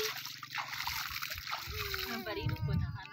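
Mountain spring water emerging between hills splashes and sloshes continuously close by, under adults talking and a voice.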